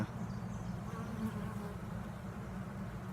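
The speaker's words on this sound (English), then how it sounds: "So the bees are really active." Honeybees hum in a dense, steady buzz around a top-bar hive, many insects close by droning together without pause.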